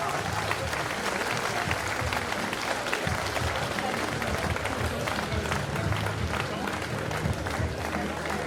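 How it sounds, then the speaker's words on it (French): Sustained applause from a crowd honoring two savate boxers at the end of a combat bout, dense and steady throughout, with voices mixed into the noise. "on peut applaudir très fort nos deux boxeurs Romain Falandry et Mohamed Abdellaoui"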